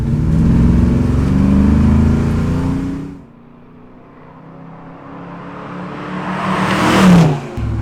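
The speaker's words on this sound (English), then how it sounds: "It's got the 383 stroker engine that I showed you earlier." A 1957 Chevy Bel Air with a 383 stroker engine drives by, its loud, close V8 rumble holding steady, dropping away to quiet, then building again into a rising rev before fading.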